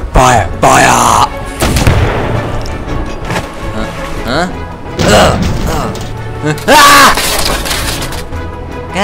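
Cannons fire in a comic British naval battle scene, several loud booming cracks with mechanical clatter in between, close and forceful amid shouting voices.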